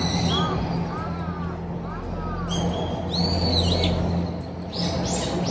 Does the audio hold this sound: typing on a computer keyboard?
no